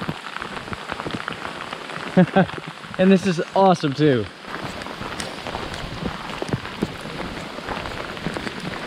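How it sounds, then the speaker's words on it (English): Steady rain patters on a campsite surface in thick fog throughout, with someone briefly speaking in the middle over the constant hiss of falling drops. "Is it raining? Oh yeah, it's raining."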